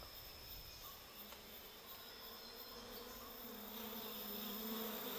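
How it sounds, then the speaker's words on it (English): Giant Asiatic honeybees, the largest honeybees, buzz around an open nest high in a tall tree in Malaysia, a dense continuous hum swelling slightly louder toward the end, no voices. "These are the giant Asiatic bees, the biggest of all honeybees."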